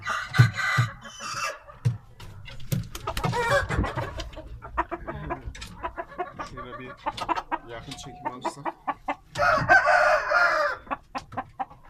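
An Indian game rooster crows loudly nearby amid repeated clucking from chickens, while someone talks briefly between the calls.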